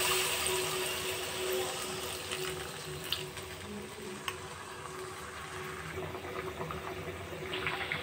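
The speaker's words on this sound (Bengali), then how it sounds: "এবার পরিমাণ মতো জল দিয়ে দেবো" Water poured into a pan of spiced taro and potatoes, a steady bubbling, gurgling flow with soft sizzling underneath that lasts throughout, with a few small clinks.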